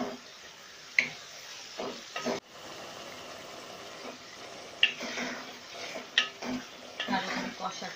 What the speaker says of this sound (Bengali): মাংসটাকে জাস্ট ফ্রাই করে নেব। এবার আমি গ্যাসটাকে হাই ফ্লেমে করে দেব।